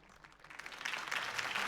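A crowd in the Telltale Batman video game applauds after a campaign speech. The clapping starts thin and quickly swells into loud, sustained applause.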